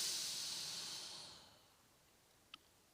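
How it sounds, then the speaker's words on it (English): An inhaled breath during Kundalini yoga, a close, airy hiss of drawn-in air that tapers off and falls quiet, followed by a small soft click. "And inhale."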